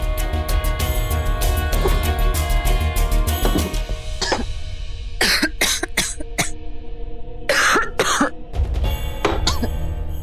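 A woman coughs at night in a bedroom, several harsh bursts and throat-clearing sounds spread over the clip, heard over a steady low background hum.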